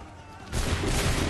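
Musket volley from a line of soldiers at Lexington and Concord in the Assassin's Creed III Remastered video game, a sudden loud broadband burst of gunfire that swells into a rumbling roar for about a second with no talk.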